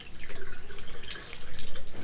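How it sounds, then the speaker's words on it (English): Tap water runs from a faucet in a clinical setting before ear irrigation, a steady splashing stream with a pulsing, rhythmic flow, close and fairly loud. "after 20 seconds of running the tap water"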